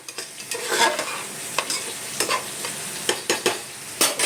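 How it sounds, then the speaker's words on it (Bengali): A spatula stirs egg and shrimp frying in a pan, a steady loud sizzle broken by regular scraping strokes against the pan, close up with no voices. "নেড়ে নিচ্ছি।"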